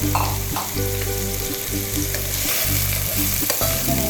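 Chopped onions go into hot oil in a pan and set off a loud, dense, continuous sizzle close by. A few stirring scrapes come through, and no one speaks.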